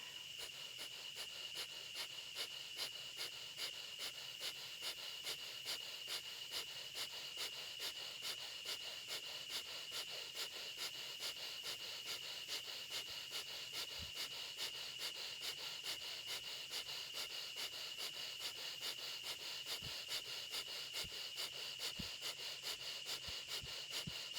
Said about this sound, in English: Fire breath, I'm beginning a fire breath now.